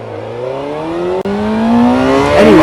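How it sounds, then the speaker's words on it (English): A Suzuki GSX-R 600 motorcycle engine runs close by and revs up, its pitch climbing steadily with a brief dip midway, loud and alone. "the bike's working, it's running"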